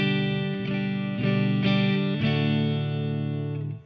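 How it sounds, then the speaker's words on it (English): Electric guitar with a split-coil neck pickup through a Tone City Wild Fro overdrive pedal with slight slapback reverb, playing sustained distorted chords that change several times, loud and up front, with no talk. "Gives you kind of that single coil pickup sound."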